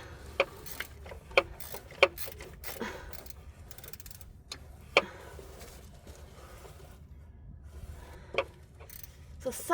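A torque wrench ratchets on a socket during belt tensioner replacement on a 2008 Ford F-350 diesel truck, heard as sparse, sharp, irregular clicks at close range over a low background hum.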